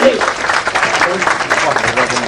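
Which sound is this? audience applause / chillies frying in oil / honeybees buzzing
audience applause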